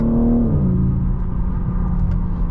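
A 2024 BMW M3 Competition xDrive with an 8-speed gearbox accelerates hard, its engine note climbing briefly then settling into a loud, steady interior rumble with no talking.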